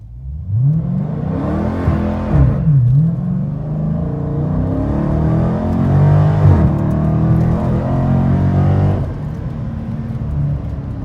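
A 2019 Dodge Challenger Scat Pack launches with launch control, its V8 roaring loudly through rising gear pulls with the pitch dropping at each shift, a long close acceleration run.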